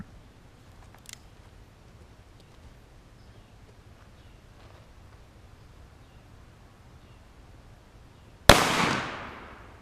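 A single sharp gunshot from cheap, soft ammunition fired at a block of wood in a backyard cracks loudly near the end and trails off into a quiet outdoor hush.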